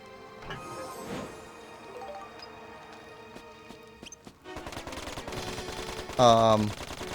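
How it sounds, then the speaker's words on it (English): Max's machine gun rattles off in Dark Cloud 2, rapid bursts of gunfire over the game's music, swelling to a louder burst near the end. "we'll see what his machine gun does down here"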